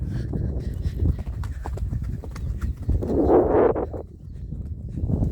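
Steady clip-clop of horse hooves walking at an unhurried pace, close by, with a rhythmic thud and some background rustle.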